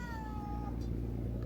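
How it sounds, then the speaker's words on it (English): A ginger kitten gives a high, thin meow near the listener, one drawn-out call that trails downward, with low background rumble underneath. "Cute kitten. So, ginger cat."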